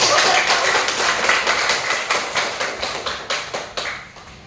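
A classroom of children claps together in a quick burst that settles into a steady rhythm of loud, close claps, then fades out gradually.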